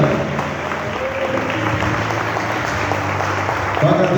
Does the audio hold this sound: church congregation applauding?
yes